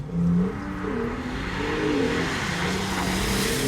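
A Honda NSX driven hard on a racetrack in third gear, braking lightly into oversteer. Its engine drones loudly and steadily with shifting pitch, and a brief tire squeal rises near the middle.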